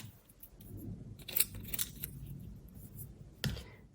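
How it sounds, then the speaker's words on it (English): Adhesive backings being peeled off craft paper for a card project: a few short, faint crackling strips and scrapes close by, with no talking. "I'm just gonna go ahead and peel off these backings."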